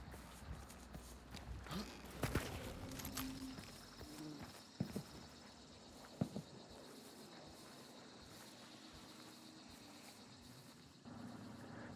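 In Hunt: Showdown, another player's footsteps thud and clop irregularly at a moderate distance over a dense ambient bed of game noise, with no talk.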